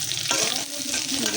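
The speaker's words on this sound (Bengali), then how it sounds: "এখন আলু ভাজি বসাই দিতেছি" Potatoes sizzle loudly in a pan on a low gas flame, a spatula scraping and stirring them through a continuous close frying hiss.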